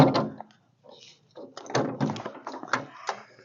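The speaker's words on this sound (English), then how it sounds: "Then we would open the door to make sure the door opens." The rear emergency door of a school bus is opened during a pre-trip inspection. Dull latch clunks and metallic thuds come first, then the rattle and knock of the door swinging open, close by.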